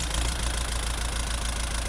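A Thermo King D201 diesel engine, temporarily mounted in a Volkswagen bus, idles steadily and close by, a dense, even low rumble with a faint knocking pulse and no talk.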